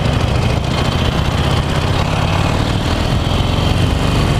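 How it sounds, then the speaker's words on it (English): Loud, steady engine roar from a 2018 Harley-Davidson Roadster motorcycle being ridden toward the Autobahn, a dense low rumble holding constant for a few seconds without speech. "This is the 2018 Harley-Davidson Roadster, and we're about to get onto the Autobahn"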